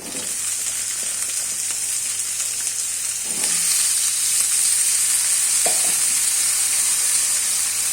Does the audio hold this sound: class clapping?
no